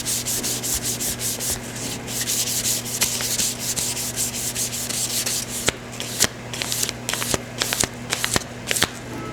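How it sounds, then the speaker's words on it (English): Sandpaper rubbed along the rubber edge of a screen printing squeegee, fast close back-and-forth scratchy strokes in a steady rhythm, turning into separate sharper swipes toward the end. "you sandpaper the bottom, and just be careful not to roll it"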